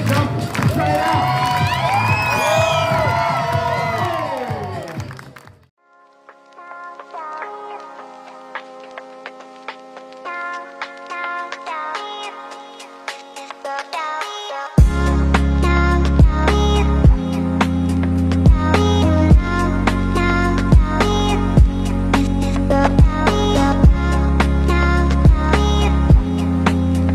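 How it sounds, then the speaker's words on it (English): A crowd at a Festival of the Arts performance on Disney's Boardwalk cheers and screams loudly for about five seconds, then falls quiet. Music follows, first soft and sparse, then turning loud with a heavy beat. "The louder you cheer, the higher we jump."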